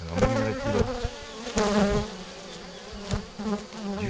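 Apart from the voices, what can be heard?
honeybees buzzing around Layens hive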